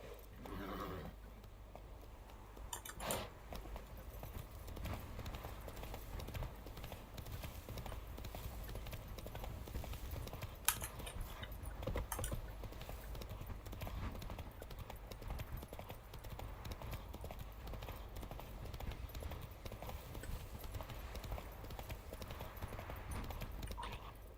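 Roach, the horse from the video game The Witcher 3, gallops with a steady, continuous clip-clop of hooves, a loud rhythmic patter over a low rumble running the whole way through, with one brief sharp click partway.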